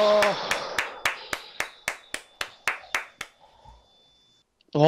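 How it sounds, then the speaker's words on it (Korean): Steady, rhythmic hand clapping at a live hypnosis counseling session: about a dozen evenly spaced, sharp claps that thin out and stop, followed by a brief pause before a voice begins speaking. "여러분 박수 좀 쳐주세요."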